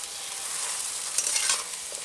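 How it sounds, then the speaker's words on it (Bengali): A vegetable chop spice mix dry-frying in a pan while being stirred, giving a steady close sizzle with scraping and stirring noises that swell briefly midway, no voices. "শুকনো শুকনো করে ভেজে নিচ্ছি।"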